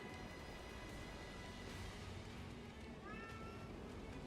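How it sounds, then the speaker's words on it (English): A cat meows from behind a vending machine, a faint rising cry heard over a dense, steady electrical hum. "I hear a cat. Where's the cat?"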